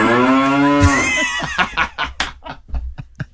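A person's voice imitates a cow, drawing out one long, loud, wavering moo before breaking off into quick talk and laughter.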